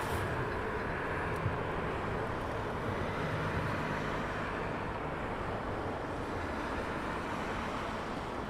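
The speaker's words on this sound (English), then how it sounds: "I've got a trend of small aircraft coming in now" An Airbus A320 arriving at London Heathrow Airport, its engines a steady broadband roar that holds level throughout, heard from a distance with no voices.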